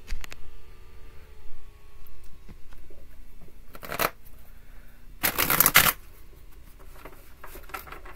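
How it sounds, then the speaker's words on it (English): Two bursts of tarot card shuffling, a short riffle followed by a longer, louder one, with quiet pauses and faint rustling between. "Two more shuffles and I think we'll have it."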